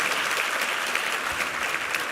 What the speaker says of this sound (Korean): 우리 뉴잼 어린이 뮤찬팀에게 한번 힘찬 격려 박수 부탁합니다.